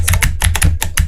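Rapid, close taps on computer keyboard keys such as W, S and D, several crisp clicks in about a second, loud and alone.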